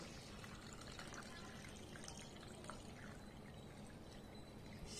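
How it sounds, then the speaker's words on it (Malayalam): Water pours steadily into a pot of cassava, a continuous splashing gush that stays even and close for the whole few seconds, with no talking. "ഇനി നമുക്ക് ഇതിനകത്തേക്ക് വെള്ളം ഒഴിച്ച് കൊടുക്കണം"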